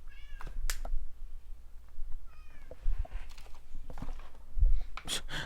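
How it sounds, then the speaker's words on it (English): A house cat meows several times, short insistent calls spaced a second or so apart, wanting to be let in, with light thumps and shuffling between the cries. "Now my cat wants in."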